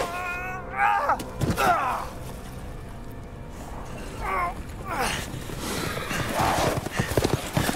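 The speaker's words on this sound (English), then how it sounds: "Oh, you guys have horses." Horses in the Resident Evil Village video game clip-clop and neigh, with hoof beats and a whinny rising over a busy game soundscape, mid-loud and close.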